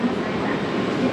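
Hakone Tozan line train heard from inside the car while running, a steady loud rumble of wheels on rail through a short stretch.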